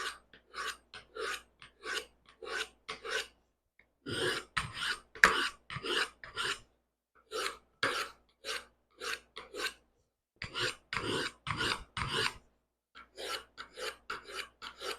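A knife blade is drawn along a 10-inch medium diamond rod in quick, rhythmic rasping strokes, grouped in short bursts separated by brief pauses, quiet and close.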